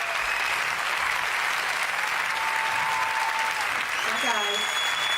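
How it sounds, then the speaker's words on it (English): Crowd cheering and applause sound effect played on a radio show, a steady dense wash of clapping and cheers throughout, with a few whistles near the end. "And the crowd goes wild."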